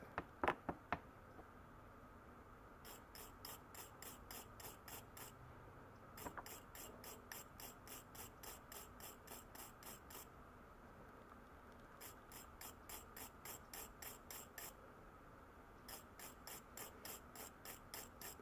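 A ratchet wrench loosens the generator nut on a Coleman 220K lantern, with repeated bursts of rapid clicking pawl ticks separated by short pauses, close and fairly quiet.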